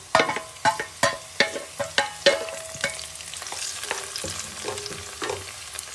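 Onion and curry leaves hit hot ghee in a pan for Rajasthani pumpkin kadhi, with a close, steady sizzle under a run of sharp, rhythmic stirring scrapes that ease off into softer frying.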